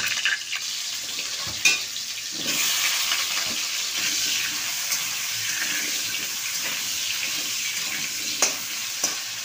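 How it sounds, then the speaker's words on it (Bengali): Cut potatoes going into a hot wok for an egg curry: a broad hissing sizzle swells after a sharp clatter and keeps going, with a few scraping knocks and utensil clicks along the way, and no voices. "আলুগুলো সব কড়াইতে দিয়ে দেব"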